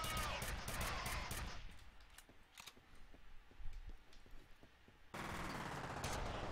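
Bursts of rapid automatic gunfire in the shooter game F.E.A.R., a loud opening volley, sparse shots in a quieter middle, then another dense volley at the end.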